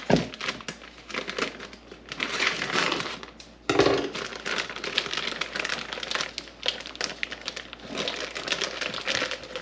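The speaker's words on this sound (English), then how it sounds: "So I'm just going to cut open my chicken." Knife cutting through the plastic packaging of a nearly thawed whole chicken on a kitchen counter, close crinkling and crackling with short pauses and a sharp rustle midway.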